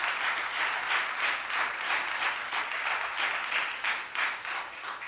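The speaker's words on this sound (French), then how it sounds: "Donnons de nouveaux applaudissements à sœur Isley." A church congregation claps together in a steady, rhythmic round of applause, with loud hand claps sustained throughout and no talking over them.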